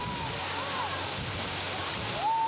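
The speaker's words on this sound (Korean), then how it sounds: "붉은 사암 절벽 위에서 강렬하게 쏟아지는 물줄기는 보기만 해도 시원해진다." Calf Creek Falls pours over a red sandstone cliff in the Utah desert, giving a steady, dense rushing roar of falling water with a few faint whistling tones above it.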